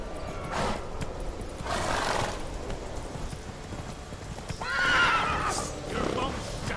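Roach, a horse in The Witcher 3, gives a loud close whinny in the middle of the stretch, set among hoofbeats and short bursts of game noise.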